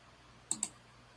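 A computer mouse gives two quick, close clicks in a row against a quiet background.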